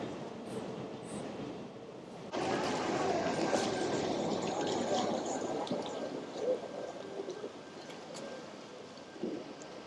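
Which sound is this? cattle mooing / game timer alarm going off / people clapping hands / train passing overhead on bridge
train passing overhead on bridge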